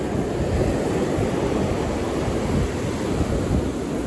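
Ocean surf breaks and rushes in a steady, loud, broadband roar along the shore, unbroken for the whole stretch with wind noise on the microphone and no voices.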